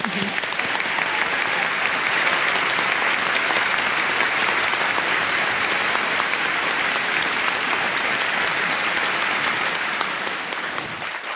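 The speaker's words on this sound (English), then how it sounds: "Please do one more thank you applause." Sustained audience applause fills a gala hall, a dense steady wash of many hands clapping for the full stretch, easing slightly only at the very end.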